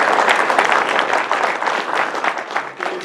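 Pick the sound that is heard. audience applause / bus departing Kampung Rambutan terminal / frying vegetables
audience applause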